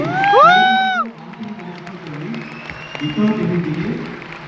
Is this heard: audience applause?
yes